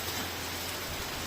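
Heavy typhoon rain pours down steadily during Typhoon Crising in the Philippines, a dense, loud, unbroken roar of drops with no voices.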